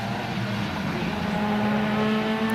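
An IndyCar engine rising in pitch as the driver touches the throttle on the New Hampshire oval, a loud, steady, strongly tonal whine with no talking.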